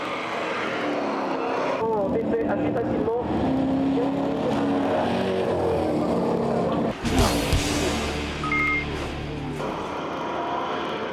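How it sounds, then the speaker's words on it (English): Euro NASCAR stock cars racing at the Nogaro circuit in France, engines droning and rising as cars pass, with one loud close pass near the middle, under continuous commentary. "Goupy in the Rapido Racing by still entry and Rousseau in the Red Bull Racing team car go head-to-head for third place"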